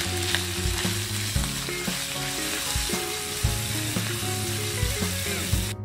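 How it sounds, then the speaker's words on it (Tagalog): Ham frying in a pan for carbonara, a steady dense sizzle running throughout with repeated louder bursts and scraping as the slices are moved, close and fairly loud with no talking. "Prituhin naman ang ham."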